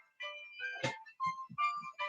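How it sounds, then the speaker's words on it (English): A tubular bells message tone rings out from a phone, a short sequence of clear, bright chiming notes in quick succession, alone and fairly close. "now what you're hearing is tubular bells, and it's a message on my phone."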